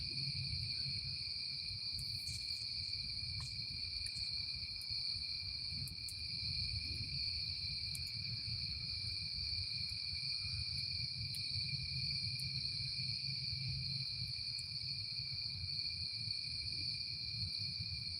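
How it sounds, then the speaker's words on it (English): Continuous high-pitched cricket chirping from several insects at night, steady and unbroken, over a low rumbling background with no talking. "I love the ambiance, the sound of the crickets."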